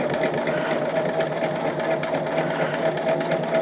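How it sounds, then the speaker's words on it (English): A sewing machine runs steadily while stitching quilt block units for a flowering quilt block, a continuous close whirring hum with a fast rhythmic needle pulse and no talking. "I think what I'm going to do is just keep sewing all of these just like this"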